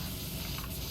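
A steady, close hiss of a wide-spray pressure washer in PowerWash Simulator, loud and continuous without a break.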